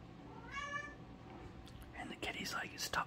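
A house cat lets out a single drawn-out meow near the start, followed by a quiet person talking close by.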